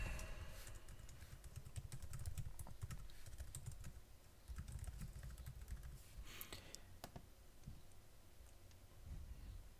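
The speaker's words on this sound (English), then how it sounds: "We will type in apparently the wrong password for our system." Keys clatter on a computer keyboard as a password is typed, a steady faint run of quick tapping with brief pauses over a low background rumble.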